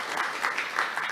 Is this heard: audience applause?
yes